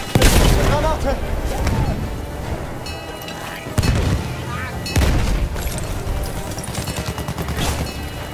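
In a war video game, loud booms mark a grenade explosion and other blasts among scattered bursts of gunfire, all close and heavy, with voices speaking throughout.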